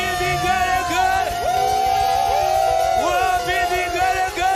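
A church congregation ululating in praise during a Swahili worship service. Loud, high trilling cries from many voices overlap and waver continuously over crowd noise.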